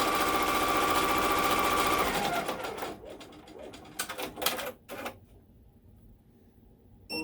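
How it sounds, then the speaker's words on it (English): A sewing machine runs a straight line of stitching across fabric for a bow, a steady buzzing whir for about two seconds, then slows into short intermittent bursts before going quiet. "It'll sew a straight across line and we'll fold it over."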